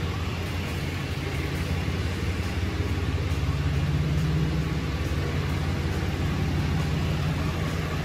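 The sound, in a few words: pickup truck engine running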